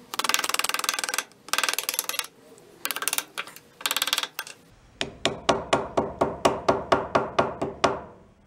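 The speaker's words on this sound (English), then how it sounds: "you use the round part of the ball peen hammer to make the line cut all the way around." A ball peen hammer's round face taps gasket paper to cut a gasket for a Rupp mini bike: several quick bursts of rapid tapping, then a steady series of about a dozen sharp, close, evenly spaced knocks.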